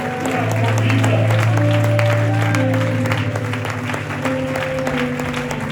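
A church congregation at a night service in Johannesburg claps and cheers in sustained, loud applause for Jesus, with a dense crowd wash continuing throughout over steady sustained musical tones.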